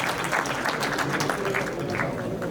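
An audience at an Atal Jayanti commemoration event in India applauds, a dense continuous wash of clapping that holds steady throughout with some voices faintly mixed in.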